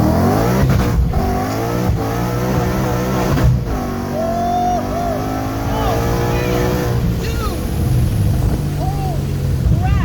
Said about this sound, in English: Has 15-inch drag radials and it blazed them. It absolutely blazed them.